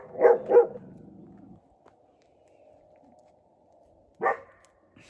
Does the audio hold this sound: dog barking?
yes